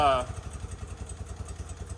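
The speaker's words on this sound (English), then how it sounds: "But I'm giving it a little bit of gas" An old motorcycle engine, left sitting over twenty years and unable to idle on its own, runs with a little throttle held open: a quick pulsing putter with a brief voice at the start.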